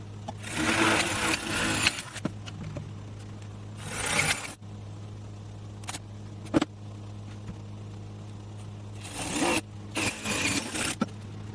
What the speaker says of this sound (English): we're going to drill this hole out right here and go through both boards at the same exact time